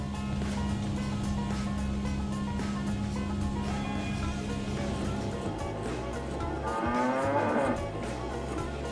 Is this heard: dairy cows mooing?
yes